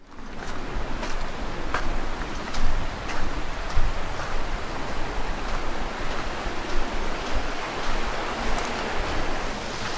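A small creek flows beside the Dutchman's Trail in the Superstition Wilderness, a continuous close rushing babble with faint ticks and a few louder surges, and no talking.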